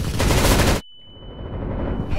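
Gunfire from the video game Counter Striker rattles out in a dense, loud burst that cuts off abruptly, followed by a quieter stretch with a thin steady tone.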